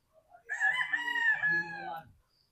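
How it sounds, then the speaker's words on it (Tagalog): A rooster crows once, loud and close, a drawn-out call lasting about two seconds with no other sounds around it. "Ang kanilang manok, oh."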